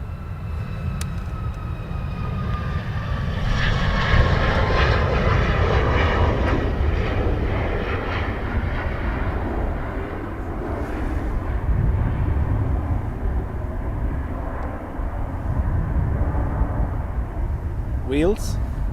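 Ryanair jet airliner taking off at Dublin Airport, a loud sustained engine roar with broadband rumble that swells and holds throughout, with a voice talking over it.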